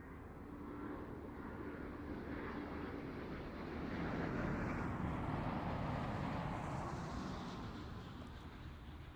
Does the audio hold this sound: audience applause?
no